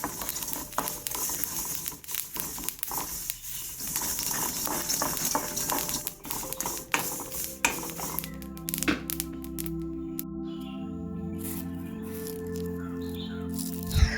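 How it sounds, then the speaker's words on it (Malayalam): Herbs dry-roasting in a pan over a low flame, with a steady scraping stir and a soft sizzle that carry on throughout, near and moderately loud with no talk. "നമ്മൾ ലോ ഫ്ലെയിമിലിട്ടിട്ട് നല്ല പോലെ ഇങ്ങനെ ഒന്ന് വറുത്തെടുക്കണം"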